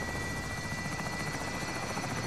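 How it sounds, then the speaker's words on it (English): Helicopter in the video game Call of Duty Warzone, a continuous close rotor thrum and buzzing drone that stays steady throughout with no talking. "Come on, chopper."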